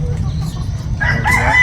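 Chickens cluck close by, and a rooster breaks into a loud crow partway through, over a steady background.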